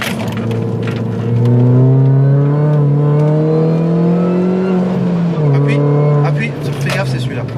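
A car slows for a bend under hard braking, its engine then building steadily as it accelerates out of the turn, loud and close, with a person talking over the engine.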